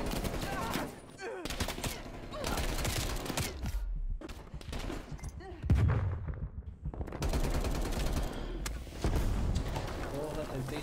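Weapon gunfire in Call of Duty Cold War, repeated bursts of rapid automatic shots with loud crackling reports, broken by short pauses, while someone talks in Portuguese over the action.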